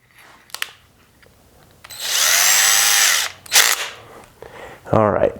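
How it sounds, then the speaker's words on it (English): A power drill boring a hole in a hardware-store lightsaber build: one loud, close whine for about a second, then short clicks and a brief second buzz. "So I'm gonna drill a hole or two in here, add a knob or two"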